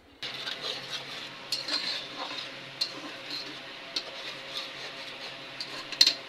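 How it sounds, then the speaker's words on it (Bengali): Spices with ginger-garlic paste stir-fried in a pan, a soft sizzle under repeated light scrapes and clinks of a utensil against the pan. "সব মশলা তো দিয়ে দেওয়া হয়েছে, এখন ভালো করে কষিয়ে নিতে হবে।"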